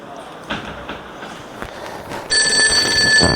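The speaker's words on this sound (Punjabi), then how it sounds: "ਫੋਨ ਫੋਨ ਕਿਦਾ ਵੱਜੀ ਜਾਂਦੇ ਆ" A few thuds and shuffles, then a steady electronic phone ring sounds loudly and continuously for the final second.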